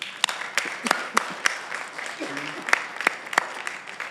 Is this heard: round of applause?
yes